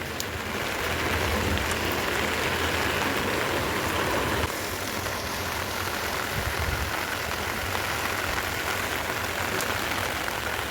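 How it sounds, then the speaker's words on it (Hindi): Steady heavy rain pours down in a dense, continuous hiss, loud and close, with a deeper rushing layer underneath and no voices. "जबरदस्त बारिश हो रही, जबरदस्त।"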